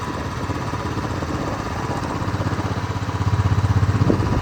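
Motorcycle engine on a mountain road in Ladakh, a steady close rumble that grows louder and more strongly pulsing toward the end, with no voices.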